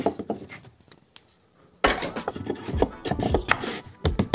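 A wooden board with an epoxy-filled knot being sawn to length, starting as quiet rubbing and then turning into a loud, steady rasping cut that runs for several seconds, close up and without speech.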